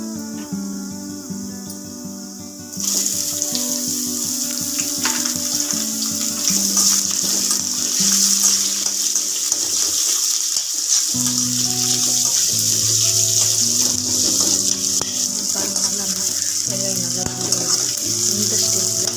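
Onions tossed into a pan for a country-style mackerel fish curry burst into a loud, steady frying hiss that runs on continuously, with soft background music underneath.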